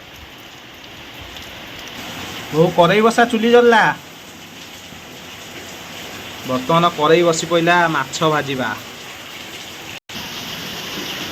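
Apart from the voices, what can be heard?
heavy rain falling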